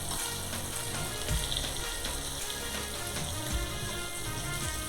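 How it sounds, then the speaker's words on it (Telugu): Pieces of fish fry in oil in a pan as they turn crisp and golden. The sizzle is a dense, steady crackle close by, with a few soft knocks, and no voices. "ఇలా తిప్పుకుంటూ ముక్కలు క్రిస్పీగా గోల్డెన్ కలర్లోకి వచ్చే వరకు ఫ్రై చేసుకోండి"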